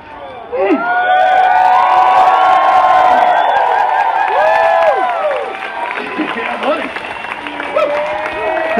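Crowd at a Renaissance Faire show in New York cheering loudly, with whoops, shouts and clapping swelling quickly and holding before easing slightly, individual voices rising above the roar.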